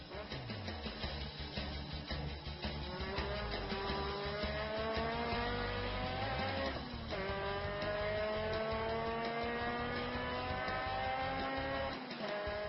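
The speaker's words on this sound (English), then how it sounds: "here's the BMW up to speed while we're away" A BMW race car in the 2012 BMW Performance 200 holds a loud, steady engine note at racing speed, with rising harmonic sweeps as it shifts through gears and accelerates, filling the clip continuously.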